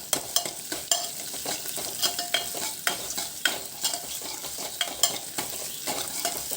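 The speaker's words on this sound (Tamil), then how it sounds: "பொறுமையாக கைவிடாமல் அந்த வெங்காயத்தை வதக்குங்க." Onions are sautéed in a pan with a constant sizzle, while a spoon scrapes and stirs in steady, repeated strokes close up, with no speech.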